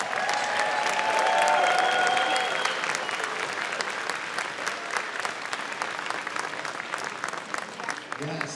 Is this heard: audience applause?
yes